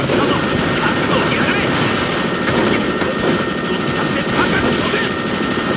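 Dense, rapid gunfire from the shooting game MicroVolts: Recharged crackles almost without pause in a busy firefight. A player's voice comes in over the shots.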